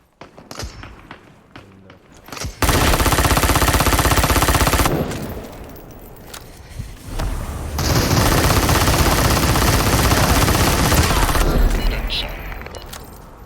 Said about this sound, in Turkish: silah ne biçim tepiyor